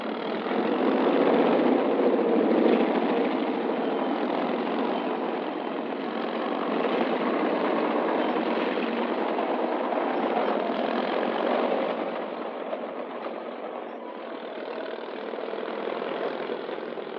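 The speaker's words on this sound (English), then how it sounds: "Big tractor dozers handle the assignment." Big tractor dozers clear debris from city streets for World War II army engineers, a loud, steady engine drone that runs unbroken throughout with no voices.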